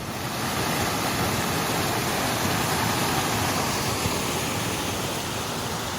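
A stream on the Appalachian Trail runs high and murky after flooding, its loud, constant rushing wash filling the scene without a break.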